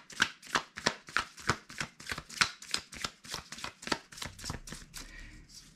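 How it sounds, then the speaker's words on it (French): Tarot cards are shuffled by hand in a quiet room, a close, even run of about fifteen crisp riffling bursts in steady rhythm that fade out at the end. "je vais les mélanger en me concentrant donc sur ce sujet des énergies"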